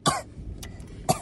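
Someone coughs inside a car, imitating a toddler's cough: a sharp close cough at the start and another short one about a second later, with quiet cabin hum between.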